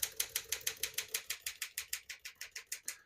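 Keys on a 1960 Smith-Corona Silent-Super portable typewriter strike in an even, quick rhythm of about twenty crisp clacks, close and alone.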